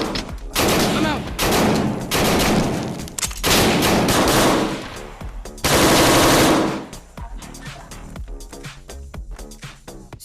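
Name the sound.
gunfire during tactical breaching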